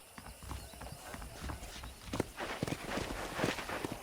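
Saddled horses in the video game Red Dead Redemption walk with a steady clip-clop of hooves, close and fairly quiet, over a soft game ambience.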